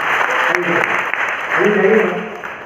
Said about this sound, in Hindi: जोरदार तालियां आएंगे